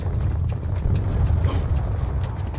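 Horse hooves galloping in the Black Ops 2 campaign, a steady rapid clip-clop rhythm over heavy low rumble, loud and continuous throughout.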